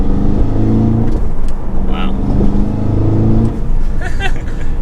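A 2022 Cadillac CT5-V Blackwing with a supercharged 6.2-liter V8 and manual gearbox, in sport mode, gives a short, restrained rev from a steady rumble, fairly quiet rather than loud, while people talk throughout.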